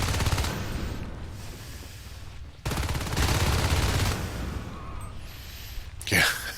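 Sustained bursts of gunfire from Marines in a competitive multiplayer video game match, dense rapid shots filling the mix, briefly cutting out before resuming, with a sharper burst near the end.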